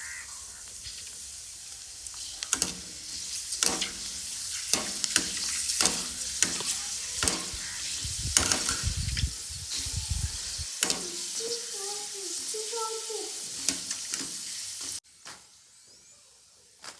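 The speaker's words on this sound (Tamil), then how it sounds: "வீல் சிப்ஸ் சேர்த்தாச்சு. நல்லா ஒரு 2 முறை கலந்து விட்டுடலாம்." Wheel chips are stirred in hot oil in a pan with the stove switched off, giving a steady sizzle broken by sharp scraping spoon strokes before it suddenly drops to quiet near the end.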